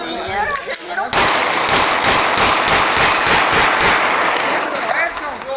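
A rapid string of sharp cracking bangs, like gunfire from firearms during a street protest, rings out loud and close in quick succession, with shouting voices around it.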